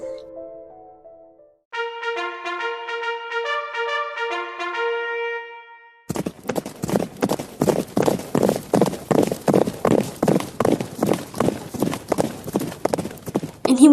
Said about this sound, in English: He ran faster than any horse I'd ever seen.